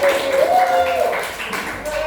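A class of students claps hands together in a dense, continuous patter while a voice speaks over it.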